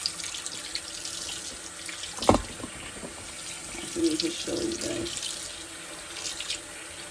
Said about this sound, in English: right now I'm using some water and I just shake it out